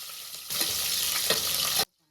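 Fenugreek seeds and chopped onions frying in a pan with cumin, a sudden burst of close crackling sizzle with a couple of stirring scrapes before cutting off abruptly.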